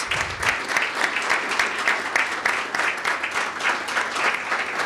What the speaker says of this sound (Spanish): un aplauso para el doctor Francisco Javier Velázquez,